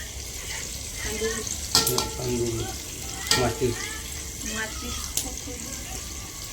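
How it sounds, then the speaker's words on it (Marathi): An egg cooks in a pan beside frying onion at home, a light continuous sizzle with sharp scraping and tapping of a utensil at intervals, while voices talk nearby. "आणि इकडे अंडे शिजत आहे"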